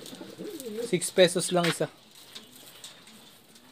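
Pigeons coo in a short burst of soft, throaty calls close by, followed by quieter background. Someone speaks over part of it.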